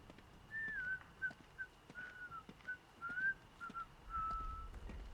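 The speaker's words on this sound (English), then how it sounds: "The whistling is a bit more quiet now." Someone in the video game Atomfall whistles a wavering tune in short melodic phrases separated by brief pauses, fairly quiet and somewhat distant, with no speech.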